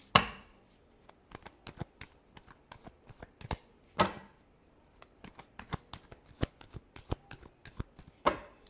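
Tarot cards are shuffled by hand, close and fairly quiet: a rapid run of crisp riffling snaps broken by three louder bursts where the deck is bridged or knocked together, with no talking.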